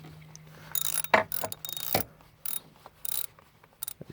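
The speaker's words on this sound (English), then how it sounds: "I just tighten them the ratchet by hand." Ratchet being worked by hand on spark plugs in a 2009 Lincoln MKS, quiet clicking strokes in short irregular bursts, close up with a faint steady hum behind and no talking.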